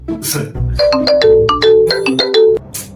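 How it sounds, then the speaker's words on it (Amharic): A phone ringtone plays a bright electronic melody of rapid chiming notes, loud and close, lasting a few seconds with little else around it. "ስልክ እየጠራ ነው"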